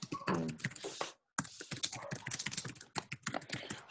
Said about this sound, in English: I'm typing your check-in.